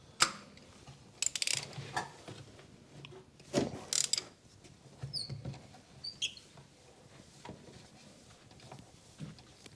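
A 5/8 plug socket turns a spark plug deep in the head of a 2008 Honda Civic Type R 2.0 petrol, giving quiet ratcheting clicks and metallic scrapes in uneven bursts against faint background noise.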